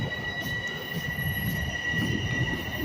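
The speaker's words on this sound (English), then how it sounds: "Bye, train." A subway train rolls through the station, its wheels squealing on the rails beneath a steady, moderately loud rumble with no talk.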